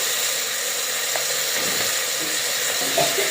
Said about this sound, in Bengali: হালকা করে তেলে কষিয়ে নেব।